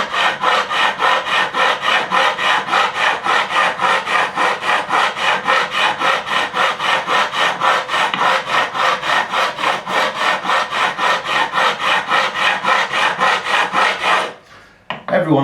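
Fret leveling on a Fender Stratocaster neck: an abrasive block is rubbed back and forth over the frets in a quick, even, rasping rhythm of many strokes, close and loud, stopping briefly near the end.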